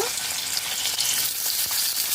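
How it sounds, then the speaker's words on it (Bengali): Steady, close crackling sizzle of cauliflower frying in olive oil in a kadai, with faint stirring and no voices. "চার টেবিল চামচ অলিভ অয়েল রয়েছে কড়াইতে ফুলকপি ভেজে নেব"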